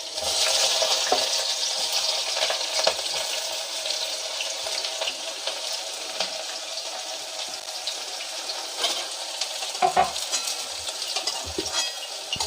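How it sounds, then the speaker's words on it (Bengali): Chopped onions frying in hot oil in a pan give a steady, close bright sizzle, with occasional clinks and stirring scrapes from a utensil throughout. "এবারে আমার তেলটা দেখছি গরম হয়ে গেছে। তো আমি এতে পেঁয়াজগুলো যে কেটে রেখেছিলাম"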